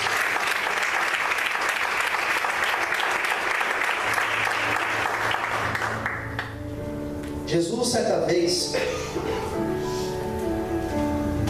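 A church congregation bursts into sustained applause during an evening service, steady and full for several seconds before fading, with voices and music rising beneath as it tapers off.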